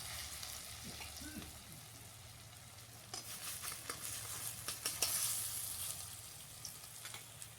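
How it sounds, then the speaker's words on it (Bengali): Steady hiss of banana flower koftas frying in hot mustard oil, with soft crackles and occasional louder spatters as pieces are added and turned. "এবার এক এক করে মোচার পিসগুলোকে সুন্দর করে ভেজে নিচ্ছে"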